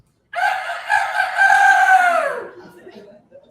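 A loud rooster crows once, a long rising-then-falling call lasting about two seconds, close by, followed by quieter background sounds.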